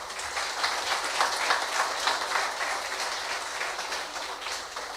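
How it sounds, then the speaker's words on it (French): A crowd applauds at a French business awards ceremony honouring a departing figure, a dense, steady wash of many hands clapping at once, holding an even level throughout without any voices. "les applaudissements pour Marius Cancel, s'il vous plaît"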